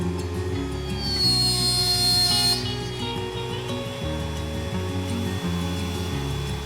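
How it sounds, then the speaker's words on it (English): A Castle 100 pocket hole machine with a quick clamp drills screw pockets and pilot holes in drawer parts, a steady motor whine with harmonic tones running throughout and a brief high shrill cut partway through. "make these screw pockets with the little Castle 100"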